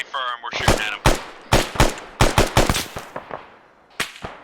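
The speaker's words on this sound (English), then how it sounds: "We're shooting at him." Rifle gunfire in a military training exercise, a rapid string of loud, sharp shots fired in bursts and single cracks close by, with a brief voice at the start.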